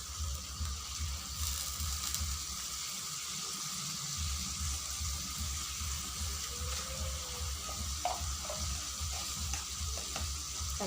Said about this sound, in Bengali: তাহলে মশলাগুলো ভালোভাবে কষানো হবে।